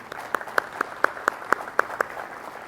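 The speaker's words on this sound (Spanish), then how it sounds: "Le damos un aplauso a Alberto, por favor." A small audience at a seminar session gives applause made of separate, sharp hand claps at a steady beat, about four claps per second, rising clearly over a quiet room.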